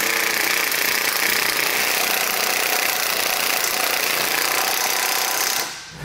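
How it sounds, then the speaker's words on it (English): A 17 millimeter socket on a power tool tightens base plate bolts into the bumper beam of a 2021 Chevrolet, a loud steady buzzing rattle up close that runs continuously for several seconds, then cuts off. "We're going to use a 17 millimeter socket on these."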